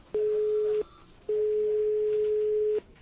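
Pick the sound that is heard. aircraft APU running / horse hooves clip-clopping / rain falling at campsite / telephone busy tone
telephone busy tone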